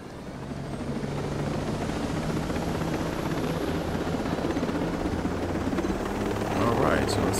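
A helicopter in the snowy Ghost Recon Breakpoint game whirs with a continuous low rotor drone and engine hum at a steady, fairly loud level. It swells slightly near the end.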